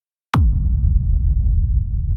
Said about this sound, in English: We add some more reverb during the tail.